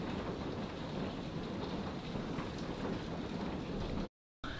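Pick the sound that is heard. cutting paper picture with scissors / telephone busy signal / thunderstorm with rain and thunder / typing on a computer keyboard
thunderstorm with rain and thunder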